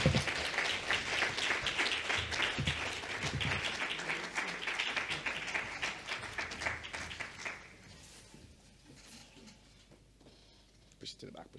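Applause fills a hall for an award recipient at an honours ceremony, moderately loud and continuous for several seconds before fading out into quiet room noise, with some voices mingled in.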